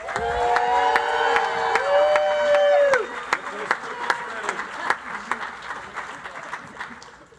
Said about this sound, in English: Let's give another round of applause for the graduating class